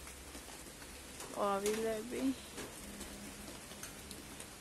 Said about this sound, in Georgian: ნახედას როგორ წვიმს როგორ წვიმს